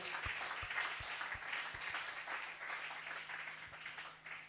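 Church congregation applauding after a call to acclaim the word of God: steady, moderately loud clapping from many hands throughout, with a few sharper individual claps standing out and no speech over it.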